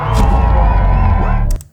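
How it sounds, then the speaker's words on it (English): A large crowd cheering, slowed down for a slow-motion scene, with a loud, dense, drawn-out roar of lowered, smeared voices that drops away sharply near the end. "I might even just slow down the sound of the crowd"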